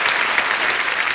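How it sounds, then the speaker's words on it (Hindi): Studio audience on The Kapil Sharma Show breaks into dense, loud, sustained applause that fills the whole stretch evenly, with no voices standing out above it. "जोरदार तालियां सुनिधि पाजी के लिए"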